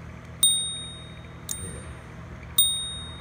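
Three bright, ringing dings from the carriage bell of a Voss DeLuxe typewriter, spaced about a second apart, each decaying quickly against a quiet room, with a brief spoken word.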